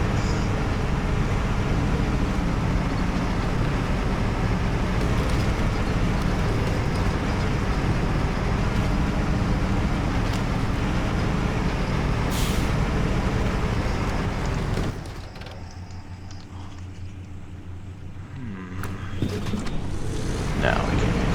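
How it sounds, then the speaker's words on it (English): A truck in the SnowRunner video game strains through deep mud while pulling a load of vehicle spare parts. A constant heavy engine roar runs for most of the time, then drops suddenly to a much quieter rumble near the end. "it's a lot of deep mud for this truck to handle"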